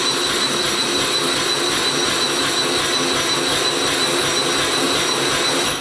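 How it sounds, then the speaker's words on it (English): A Graco Power Fill mud pump set to its highest setting runs steadily while filling a drywall bazooka, giving a loud, continuous motor whine and rushing drone that holds unbroken from start to finish. "Let's see how well it pumps up a bazooka."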